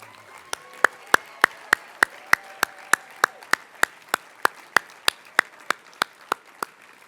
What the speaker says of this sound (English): I ask for a round of applause for these new representatives to our board.